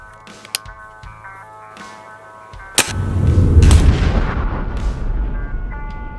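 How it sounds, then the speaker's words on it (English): A Weihrauch HW 85 air rifle, shooting at 950 feet per second, fires a single sharp, loud crack, followed by a rumbling, fading tail over a quiet tonal background. "this air gun shooting at 950 feet per second"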